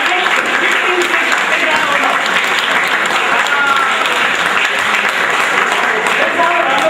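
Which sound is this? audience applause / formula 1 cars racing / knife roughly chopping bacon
audience applause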